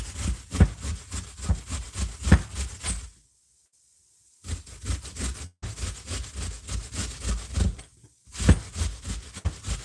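Coconut grated by hand on a worn grater in a home kitchen: quick, rhythmic rasping strokes in bursts, broken by two short pauses, close and fairly quiet.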